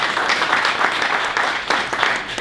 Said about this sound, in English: If you all will give her a round of applause